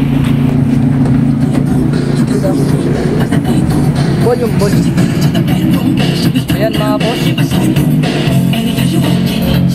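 JBL car speakers with Stage 2 604C components and tweeters in front and Stage 2 634 in the rear, playing music inside a Toyota Hilux, with strong steady bass and someone talking briefly over it.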